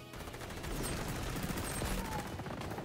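Gunshots from the online shooter XDefiant crackle under a steady wash of game noise, a quick run of muffled shots over a few seconds.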